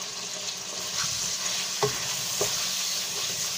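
Potatoes frying with crushed chili and turmeric hiss in a continuous close sizzle, broken by two brief stirring scrapes, with no one speaking.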